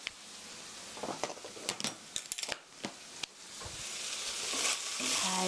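Onions with a teaspoon of white sugar sizzle and scrape as they are stirred in a frying pan, steady close frying hiss broken by irregular utensil clicks and taps against the pan.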